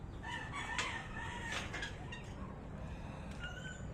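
Hungry pet chicks cluck and cheep in a busy, scattered chorus close by, with short sharp calls overlapping against a steady background.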